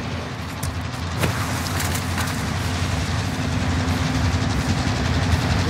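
Train rolling along in the Call of Duty: Modern Warfare Warzone video game, a continuous loud rumbling clatter with a steady hum and a few sharp knocks, heard close and without talk.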